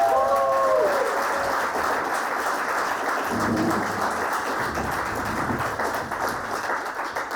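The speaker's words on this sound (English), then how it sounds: "Big round of applause for Maria, everyone!" Audience at a live comedy show claps for a performer, a full, steady round of applause from a crowded room with a brief whoop near the start and a few voices murmuring beneath.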